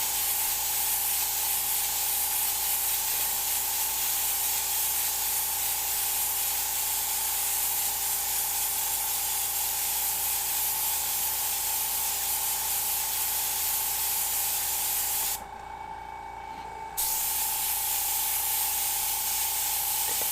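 An airbrush sprays paint over a stencil, giving a steady, close hiss that runs almost without a break and stops briefly near the end.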